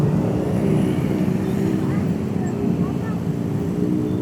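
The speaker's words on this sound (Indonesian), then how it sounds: "Ada bis tuh." A bus rumbles past on a crowded street during a car-free day in Margonda, Depok, a loud steady low engine drone mixed with busy outdoor crowd noise.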